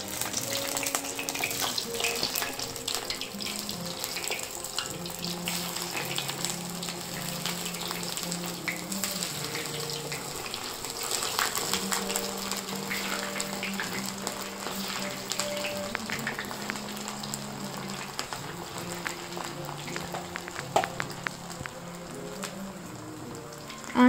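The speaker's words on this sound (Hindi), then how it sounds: "अब हम ये बॉल्स को तेल में डालेंगे।" Manchurian balls dropped into hot oil on a low flame, giving a steady sizzling, bubbling crackle that runs continuously at moderate loudness with no talk over it.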